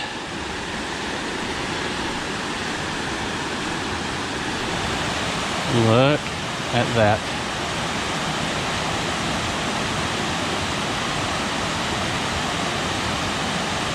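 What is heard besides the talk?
waterfall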